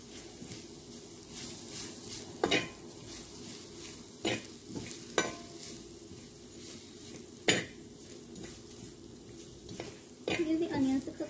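Onion, mushroom and garlic frying in a pan with a soft steady sizzle, broken by a handful of sharp utensil scrapes and clanks against the pan, close up.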